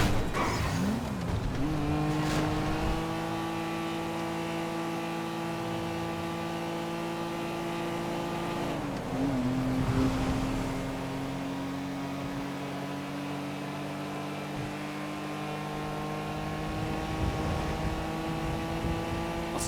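A car driving in Grand Theft Auto V, its engine holding a steady close drone that shifts pitch as it changes gear and speed, with a brief tire squeal, no talk over it.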